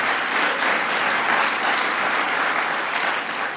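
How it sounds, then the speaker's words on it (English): Steady, dense applause from a summit audience of hospital and patient-safety people, loud and sustained with no break across the moment, no voices standing out. "clap for yourself, you deserve it"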